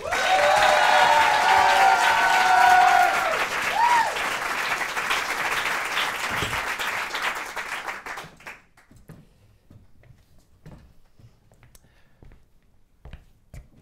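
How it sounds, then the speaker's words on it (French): Audience applause greets comedian Clément Gaucher on a stand-up show, loud and sustained crowd clapping with a few whoops that dies away after about eight seconds, leaving faint scattered claps. "je vous demande de l'applaudir, Clément Gaucher"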